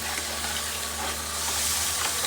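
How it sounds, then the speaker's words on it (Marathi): Masala fries in oil in a pan, a continuous close sizzle and crackle with a faint steady hum underneath. "मसाला ना चांगला फ्राय होऊन जायचं आहे एकदम तेल सुटेपर्यंत"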